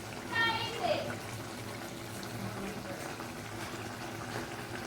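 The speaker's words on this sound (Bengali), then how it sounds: "এবার আমি গ্যাস বাড়িয়ে রাখবো জলটাকে এবার টানার জন্য" Fish curry bubbles in a pan over a raised gas flame to cook down its water. A steady, close simmering hiss continues throughout, with brief voices near the start.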